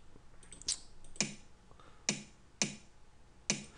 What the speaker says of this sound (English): you'll get a good, should have a good punchy kick sound